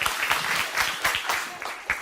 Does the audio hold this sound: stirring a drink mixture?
no